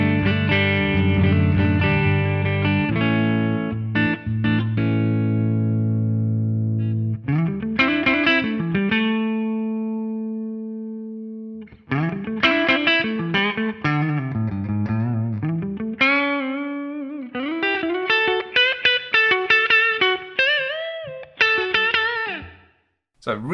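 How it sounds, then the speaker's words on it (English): Clean electric guitar through a NUX MG-30 modeler's Fender Deluxe Reverb amp model with a touch of reverb, sustained chords ringing out then a gap, followed by plucked single-note lines and arpeggiated phrases, played alone. "This one is based around this Fender Deluxe Reverb amp model. Let's just have a listen to the core clean sound."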